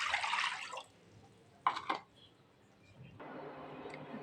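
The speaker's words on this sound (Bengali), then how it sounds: "আমি একটা প্যান দিয়েছি, প্যানে দিয়ে দেব পানি।" Water poured into a pan on a home kitchen stove, a short splashing pour at the start, a brief second splash, then a steady soft trickle toward the end, close and fairly quiet.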